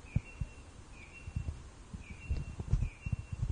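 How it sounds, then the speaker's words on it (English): A bird sings at midnight, repeating a thin, high whistled note about four times at a moderate distance, while low thumps and rustling sit close by. "That is a crazy ass bird singing at midnight."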